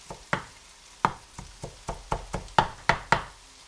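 Knife chopping a handful of fresh coriander on a board, about a dozen sharp, close knocks in an uneven rhythm with no talking.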